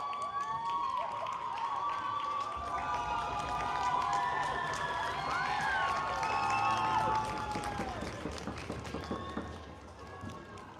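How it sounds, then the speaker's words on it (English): Nuxalk fans in a gym cheer at a U13 girls' basketball semifinal of the Junior All-Native Tournament. The steady crowd roar is dotted with whistles, whoops and the squeak of sneakers, then thins toward the end. "Nuxalk fans still having fun here, cheering on at Mauki."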